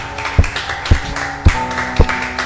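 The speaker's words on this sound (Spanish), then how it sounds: "¿Cuántos están agradecidos y pueden darle un fuerte aplauso al Rey?" Four sharp, evenly spaced claps or taps over a steady hum of sustained musical tones during a church worship service, each hit loud and close, without talk.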